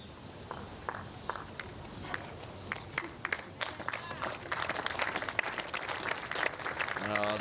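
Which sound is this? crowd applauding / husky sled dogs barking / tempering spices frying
crowd applauding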